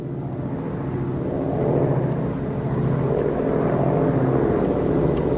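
An Ilyushin IL-12 propeller airliner drones with a steady, fairly loud engine roar that swells slightly midway, with no voices.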